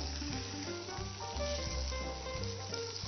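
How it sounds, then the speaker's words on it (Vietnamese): Tofu frying in hot oil in a pan gives a steady, fairly soft sizzle with crackling spits and a low bubbling hiss throughout, no voices. "Ta chiên cho vàng và để cái mùi thơm của đậu hũ nha."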